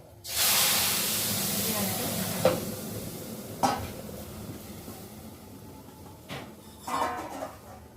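Boiled dal, potato and vegetable stems hit hot spiced oil tempering in a pan, giving a burst of loud sizzling hiss that slowly fades, with a few clinks of a spoon against the pot.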